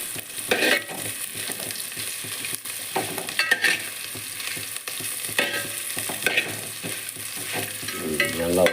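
Pirandai (adamant creeper) sautéing in a hot pan, a steady sizzle with intermittent spatula scrapes and stirring strokes, close by and without voices.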